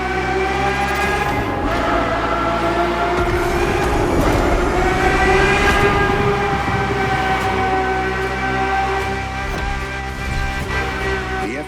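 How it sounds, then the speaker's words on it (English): A Ferrari F50's normally aspirated V12 in The Crew Motorfest holds a loud, steady, harmonic-rich wail at sustained revs, with slight pitch rises and dips throughout, close and dominant. "The F50 is a mechanical symphonia. No turbocharged V8 here. The F50's core is a normally aspirated V12"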